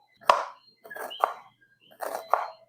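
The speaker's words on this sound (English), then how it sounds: "We're going to start by chopping up some onion." A knife chops onion on a cutting board in a few separated pairs of sharp, close thuds, each followed by a brief crunchy scrape, with quiet pauses between.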